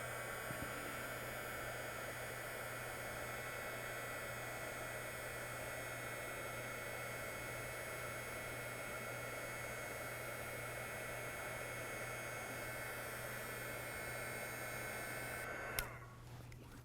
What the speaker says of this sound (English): I'm going to take just a minute to heat set that, to kind of melt that all together